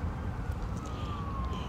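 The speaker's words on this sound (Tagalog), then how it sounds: "naririnig ninyo yung tunog ng ambulance" A distant ambulance siren wails faintly along a seaside road in Muharraq, holding a thin, slowly falling tone over steady traffic and outdoor rumble.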